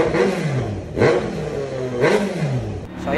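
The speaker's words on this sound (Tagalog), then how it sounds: "So, pakibalik tayo dun sa M2 na wala na silencer." A Kawasaki Z900 motorcycle with an M2 exhaust and the silencer removed revs up hard three times in a row, each a loud close roar that rises and falls back.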